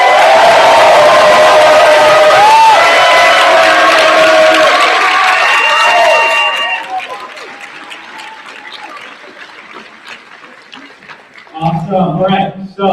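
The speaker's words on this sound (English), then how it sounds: "can we give a big round of applause to our student soapbox speakers?" Large audience at a Dallas youth forum bursts into loud applause with cheers and whoops for student soapbox speakers, strong for several seconds before thinning to scattered claps, then a voice resumes talking.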